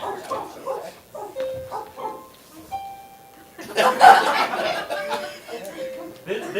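People at a dog shelter imitate dogs with barking and woofing sounds, short vocal barks mixed with chuckles and laughter, close by and lively.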